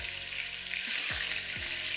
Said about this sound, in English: So all of the chicken pieces will go into the pot, and you get the sizzle